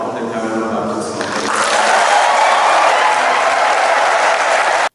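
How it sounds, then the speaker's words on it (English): Warm applause from a church congregation at an induction service for the Women's Director of the Cameroon Baptist Convention, a dense steady wash of clapping that swells after the first second and holds loud until an abrupt stop. "the congregation responded with warm applause"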